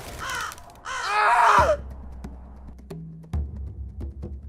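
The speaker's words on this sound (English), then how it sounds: "strong squawks surprised him. Hundreds of crows were flying over him menacingly" Harsh caws ring out near the start, loud and raspy, then fade into quiet taps and a low hum with a few faint clicks.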